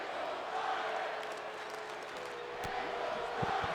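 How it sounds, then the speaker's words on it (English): A virtual arena crowd in the wrestling video game WWE 2K20 cheers during a Smackdown match in Kentucky, a distant, steady roar with scattered shouts and claps, set low under a commentary voice. "we got some fans here in Kentucky cheering for Daniel Bryan"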